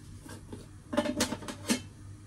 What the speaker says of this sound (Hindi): सबसे पहले हम इसमें जीरा डालेंगे